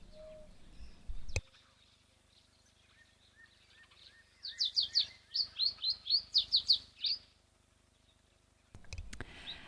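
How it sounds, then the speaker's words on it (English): A little pied wagtail calls at a waterhole, giving a quick run of bright, high chirps in two bursts, clear and fairly close against a quiet background. "how beautiful is this little pied wagtail calling?"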